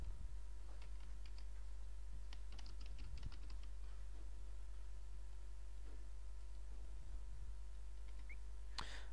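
Keys on a computer keyboard tap in quick, irregular bursts, fairly quiet and close, over a steady low electrical hum with brief pauses between runs of typing.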